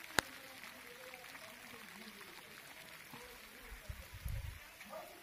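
Steady rain falls outdoors as a soft, even hiss that fills the whole stretch, with a sharp click near the start and a few duller low thumps toward the end.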